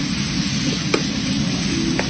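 Shrimp and chicken frying in a small wok for Thai pad kra pao, a steady loud sizzle with occasional stirring clinks throughout.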